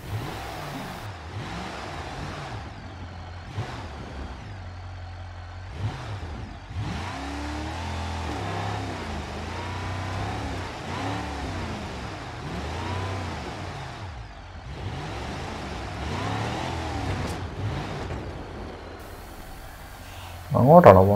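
An off-road vehicle's engine in the BeamNG Drive driving game, running overheated, revs and surges in repeated rising and falling waves throughout, with someone talking over it.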